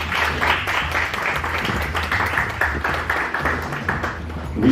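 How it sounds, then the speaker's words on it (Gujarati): Clapping from an audience at a certificate distribution ceremony for jewellery design students: steady, moderately loud applause that keeps going for a few seconds, with some voices mixed in. "તાળીઓ ચાલુ રહેવી જોઈએ."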